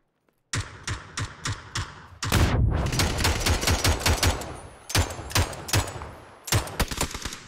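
Gunfire from a shooter video game: sharp, loud shots in quick bursts and rapid runs, close up and with no talking over them.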